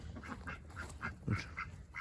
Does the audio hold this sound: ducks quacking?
yes